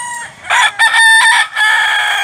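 Rooster crowing, one loud, close call in several drawn-out harmonic bursts with short breaks, clear and alone with no talk.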